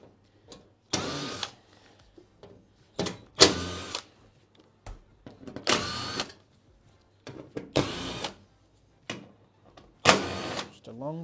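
A power driver with a Torx 20 bit backs screws out of a washing machine's back cover in about seven short whirring bursts, separated by brief pauses and small handling clicks.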